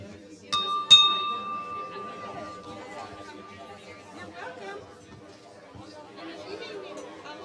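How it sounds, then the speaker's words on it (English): A bell is struck twice at a club meeting, its bright ringing tone hanging and slowly fading beneath steady crowd chatter in the room. "Okay, the bell."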